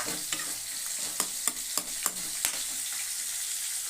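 Eggplant frying in a pan with tilapia curry, a steady hiss of sizzling oil with a short run of sharp spatula clacks in the first half.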